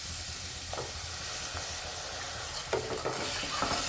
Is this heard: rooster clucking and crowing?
no